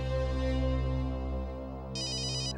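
A phone ringtone plays steadily with a sustained melodic tone, an incoming call from a wife, with a brighter chirping layer joining near the end, clear and close with no talk over it.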